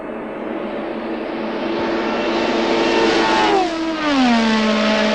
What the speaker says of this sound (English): And Jabouille is now right in the slipstream of the Saudi Williams car